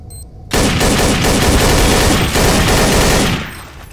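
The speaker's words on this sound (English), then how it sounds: "A single shot was heard." Loud gunfire in Counter-Strike: Source or Insurgency: Sandstorm erupts abruptly after a short quiet lead-in, a sustained burst of close shots rattling for about three seconds before tapering off.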